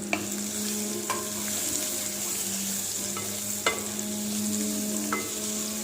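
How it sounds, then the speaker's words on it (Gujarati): Loud continuous sizzling of raw mango pieces frying in hot oil, punctuated by several sharp clicks and scrapes of stirring, with a low hum underneath. "આપણે પહેલાં કેરીના કટકા નાખીશું"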